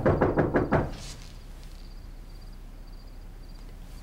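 A series of about five sharp knocks on a door, loud and close in an indoor domestic setting, followed by quiet room tone.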